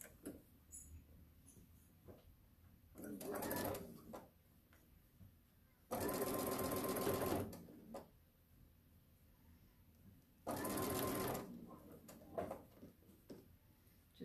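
Jelly roll quilt seams running through a sewing machine in three separate bursts of steady, fairly loud whirring stitching, with quiet handling noises in the pauses between.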